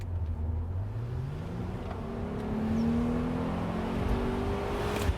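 A 2007 Mercedes CLK 350 Sport convertible accelerating hard on a bumpy road, its engine note climbing steadily in pitch through the gears over constant road and wind roar, loud and close throughout.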